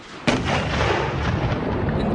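A volley of Hotchkiss guns and rifle fire, with one sharp loud report followed by a rolling, rumbling wash of sustained firing that lingers to the end.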